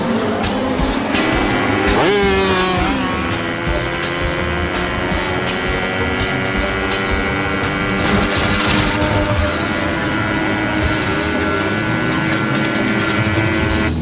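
A motorcycle being lifted into a wheelie roars loudly and continuously at close range, with rising revs and a brief squeal layered over the engine.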